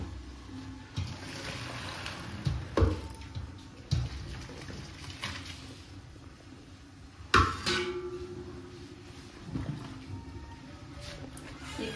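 Water poured off boiled spaghetti in a home kitchen, a steady splashing gush into a sink with a few sharp clanks of a pot, close and moderately loud, no speech.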